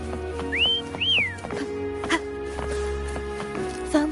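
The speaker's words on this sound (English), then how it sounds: "Try whistling." Two short rising-and-falling whistles in the video game Wuthering Waves, a quick pair of clear pitched calls near the start, followed by soft ambient game tones and faint clicks.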